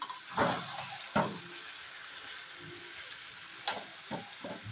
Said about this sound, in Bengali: আমি এভাবে মাংসটা ভুনা করে নিব লাল লাল করে